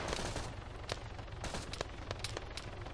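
Arma 3 gunfire rattles at a distance as quick, scattered bursts and single shots over a dense, rumbling battlefield background, faint and continuous, with no talking.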